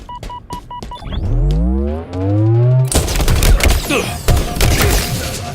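Rapid gunfire in a Halo multiplayer match, loud close bursts of sharp shots; an earlier stretch carries swelling electronic game effects, then dense overlapping shots run to the end.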